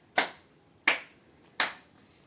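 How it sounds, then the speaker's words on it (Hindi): Three sharp, evenly spaced hand claps ring out alone, close and fairly quiet, as bhog is offered to a Laddu Gopal idol at a home shrine. "अब मैं 3 बार ताली बजाकर"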